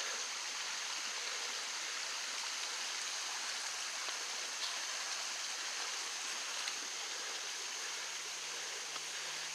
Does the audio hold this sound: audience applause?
no